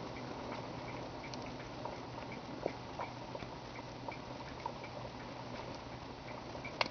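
Oil heats toward a boil while clarifying, giving faint, sparse ticking pops and small bubbling patters over a quiet steady background hiss.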